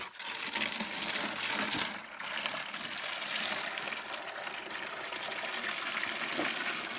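A well pump pushes dirty, bubbly water out in a strong, steady gush, a dense rushing and gurgling flow that keeps going at an even level for several seconds.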